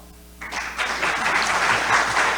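Applause rises from a quiet room after a brief pause, swelling into a thick, continuous clatter of many hands from a seated investor-summit audience, close and building in loudness.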